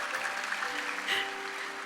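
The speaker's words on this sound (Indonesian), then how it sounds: "Berikan tepuk tangan bagi Tuhan." Congregation clapping during an online church service, a moderate wash of applause under a sustained keyboard note that shifts pitch midway, steady and fairly close without speech.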